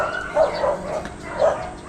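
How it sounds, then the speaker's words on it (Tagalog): A neighbour's dog barking next door, two separate woofs about a second apart, moderately loud and a little distant, with quiet room tone between. "Yung aso sa kabila maingay."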